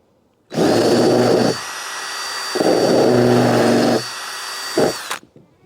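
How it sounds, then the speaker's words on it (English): A countersink bit drills into the hole of a steel axe head made from cheap Harbor Freight metal, giving loud close whirring bursts: two long runs separated by a pause, then a short final burst before the motor winds down. "I'm going to use my countersink to make that hole a little bit more attractive"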